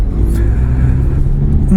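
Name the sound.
Peugeot 2008 GT Line diesel car driving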